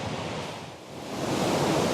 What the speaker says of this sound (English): There's a heck of a lot of water coming over that waterfall.